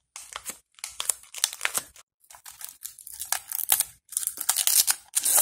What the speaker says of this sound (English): So let's unwrap.